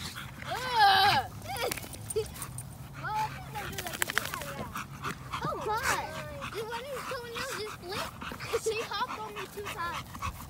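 American Bully dog panting and whimpering during rough play, with whiny yips and squeaky cries scattered throughout, close, mixed with people talking and shouting.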